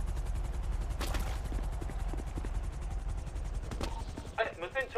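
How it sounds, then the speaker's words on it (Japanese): A helicopter in GTA5 produces a steady rotor thrum throughout, with sharp bursts like gunfire or impacts, while people talk over it in Japanese toward the end. "これノアちゃんヘリで来た今"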